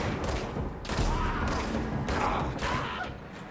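Rapid bursts of gunfire from the video game Control, fired from a transforming service weapon, crackle in repeated volleys, loud and close, with mechanical clatter between them.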